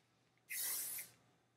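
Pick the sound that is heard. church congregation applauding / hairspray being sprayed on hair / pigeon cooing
hairspray being sprayed on hair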